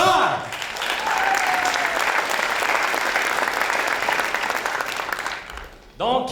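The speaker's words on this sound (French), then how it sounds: "donnez une bonne main d'applaudissement pour le McMasterCard!" An audience at a school science competition event breaks into loud, sustained applause that fills the hall for several seconds before quickly dying away, with voices briefly audible at the very start and end.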